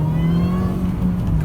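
A 2003 Mini Cooper S engine pulls hard under acceleration, a loud, steady low-pitched drone with a rising rev tone running unbroken from start to finish.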